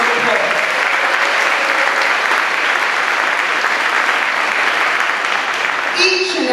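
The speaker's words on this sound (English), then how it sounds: "give them a round of applause" Loud, steady applause from a large crowd at a school prize-giving ceremony fills the whole stretch, dense clapping without pause, with a bit of cheering near the end.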